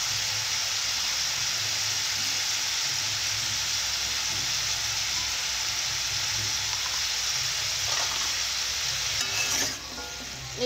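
Bottle gourd and bitter vegetables sautéing with turmeric and salt in a pan, a constant loud sizzle with stirring scrapes, steady until the frying drops quieter near the end.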